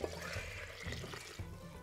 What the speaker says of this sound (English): So now it's time to add a whole bunch of water, about four cups.